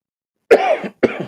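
A person gives two close, sharp coughs about half a second apart, each a harsh burst with a short raspy tail, then silence before and between.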